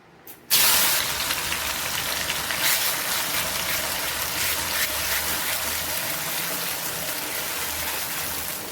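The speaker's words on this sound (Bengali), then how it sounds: "এখন পোড়ানো আমার রসুন আর পেঁয়াজ বাটাটা আমি দিয়ে দেবো।" Charred garlic and onion paste dropped into hot oil for a meat curry, a sudden loud whoosh of sizzle that settles into a steady, dense hiss continuing for several seconds, close and with no speech.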